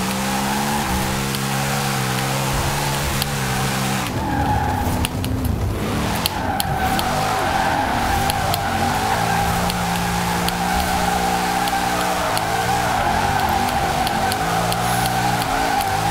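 A BMW E60 drift car's engine in Forza Horizon 4 drones and revs, with tires squealing through drifts and a brief break in the engine sound partway through.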